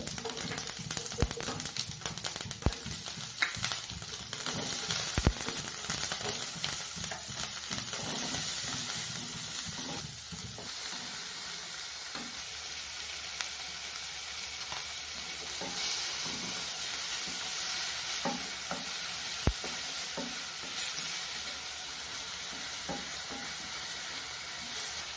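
Steady crackling sizzle of mustard seeds and lentils popping in hot oil, with scattered sharp pops throughout, close and continuous.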